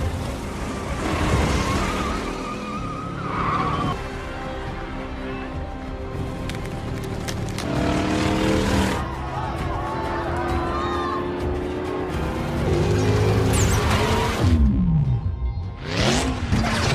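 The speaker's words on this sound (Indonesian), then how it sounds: "Mobil yang digunakan Dom memang melaju kencang" Race car speeding in a Fast and Furious 8 street race scene, its engine burning as it pushes hard, with loud revving and tire squeal over film music and crowd noise throughout.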